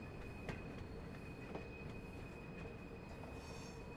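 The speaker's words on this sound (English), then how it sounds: "Train's getting faster." A steam freight train rolls along steadily on the Peak Forest line in Train Sim World 3, a low continuous rumble with a faint steady whistle-like tone and occasional wheel clicks, no voices.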